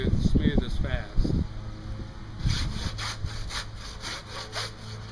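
A hand saw rasps through wood for a raised garden bed in steady back-and-forth strokes, close up, after a few louder scraping pulls at the start.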